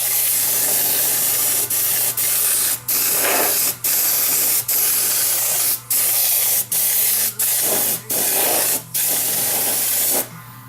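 Airbrush spraying liquid mask onto an RC car body in short, loud hissing bursts, about a dozen of them separated by brief pauses, with no talking.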